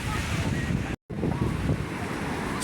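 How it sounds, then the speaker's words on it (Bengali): Strong early-morning surf on the beach at Puri crashes and roars continuously while gusty wind buffets the microphone, with one brief instant of silence partway through. "ঢেউ উচ্ছ্বাস প্রচণ্ড পরিমাণে, হাওয়ার চাপ রয়েছে"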